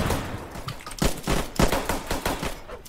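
Gunfire from a gun in a Roblox game, heard as rapid shots in short uneven bursts, close and fairly loud, with no talk.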